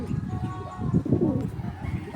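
Pet pigeons coo softly at close range, making low, rolling throaty calls in a continuous murmur over a quiet background.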